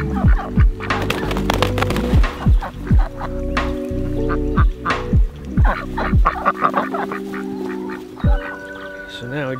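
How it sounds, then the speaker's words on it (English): Ducks quacking loudly and repeatedly at close range, a busy chorus of rhythmic honking calls with other farmyard birds mixed in. "Good morning, Bernice. Ducks."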